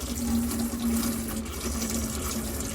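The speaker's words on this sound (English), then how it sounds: "Come over to your tap here and just pull the water through." A household water tap runs steadily on the hot side as trapped air splutters through the pipes after a boiler handover, a continuous close rushing flow with no voices.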